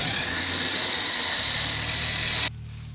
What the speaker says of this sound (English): we're just dragging a tractor